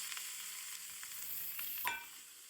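Fried potatoes added to a pan with peanuts crackle and sizzle softly in a brief, steady burst of frying noise, with a small clatter near the end.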